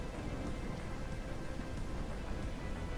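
A rainstorm pours down outside, a dense, steady hiss of rain hitting surfaces with a low rumble underneath, loud and unbroken.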